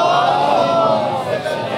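A majlis crowd recites salawat loudly in unison, a dense, sustained wall of massed voices filling the space with no break.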